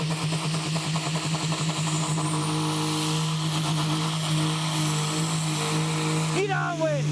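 A 4.5 ton supersport pulling tractor roars through its run at a Friday night pulling event at Great Eccleston, a loud sustained engine drone with a steady pitch that swells and then drops away near the end, under an excited commentator's voice.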